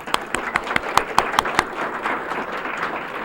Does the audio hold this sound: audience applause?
yes